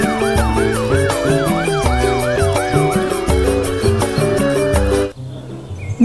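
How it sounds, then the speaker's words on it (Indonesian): A toy fire engine siren from a box of toy cars, loud and close, wailing in a fast, repeating up-and-down pattern with a melodic tune beneath, running continuously before cutting off abruptly near the end. "ada mobil pemadam kebakaran"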